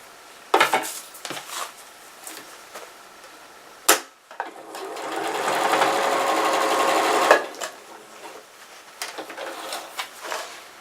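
A sewing machine runs a continuous stitch along a raw fabric edge for a few seconds, bracketed by clicks and handling noises of fabric and tools, close and fairly loud.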